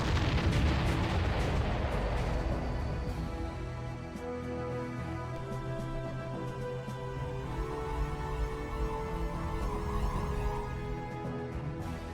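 An enemy structure blows up in the real-time strategy game Ground Control, a loud sustained explosive roar and rumble that slowly fades into a lingering drone with tonal game audio underneath.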